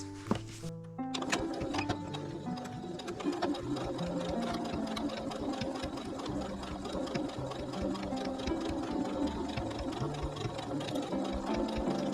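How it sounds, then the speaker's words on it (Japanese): A sewing machine stitches patchwork pouch fabric in a steady, fast mechanical whir with rhythmic needle clatter, close and continuous for several seconds after a brief start. "ここを1センチのところを縫っていきます"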